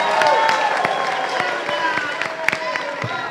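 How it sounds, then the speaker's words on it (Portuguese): Applause from an audience at a youth gathering in São Paulo, a dense, close crowd of clapping that continues steadily across the short stretch, with some voices mixed in. "Salva de palmas para Fernanda, gente."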